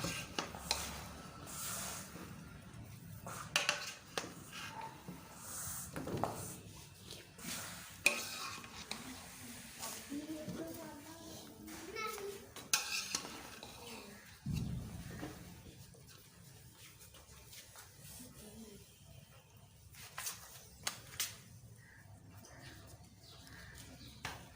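Chicken biryani with chickpeas and potatoes is stirred in a pot, giving faint, irregular scrapes and soft clinks of a spoon against metal, with light rustling between strokes.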